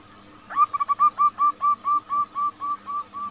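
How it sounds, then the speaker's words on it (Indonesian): A zebra dove gives a rapid run of short, even, whistled coos, about a dozen notes in steady rhythm, clear and close against faint background hiss. "Jadi guru perkutut kalau suaranya baru itu ya suaranya ngikik."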